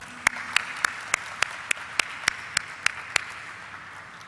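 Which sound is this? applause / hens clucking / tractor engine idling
applause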